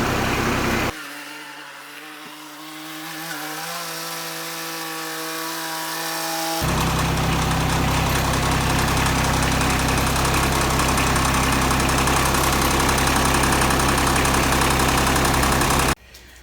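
A John Deere 2210 compact tractor's engine runs steadily through the whole stretch with a low, loud drone that rises in pitch and intensity partway through as it moves off, then cuts off abruptly near the end.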